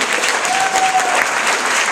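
Audience applause at a high school talent showcase, a dense steady round of clapping from a full crowd, loud and continuous throughout.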